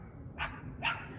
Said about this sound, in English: those are just my neighbor's dogs barking, and Louie's barking at them too